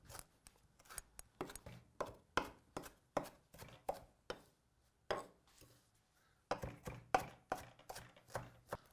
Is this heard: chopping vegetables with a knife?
yes